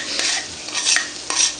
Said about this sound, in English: Okay, so the rice and the meat mixture is mixed together